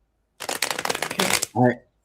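A deck of cards is riffled and shuffled close up in a quick burst of crisp ripping clicks lasting about a second, followed by a short bright snap or tone, with no talk over it.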